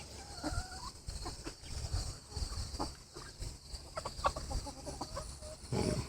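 Chickens clucking in their pen at a hillbilly coop, a faint scatter of short clucks and soft calls at an irregular rhythm over quiet background noise.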